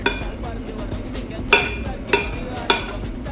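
A spoon mixes chicken sandwich filling seasoned with salt and pepper powder in a bowl, a faint scraping under three evenly spaced clinks against the bowl.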